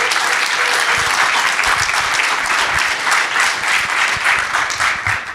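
A studio audience applauds to welcome guests onto a talk show, with dense, steady clapping at full volume throughout and no talk.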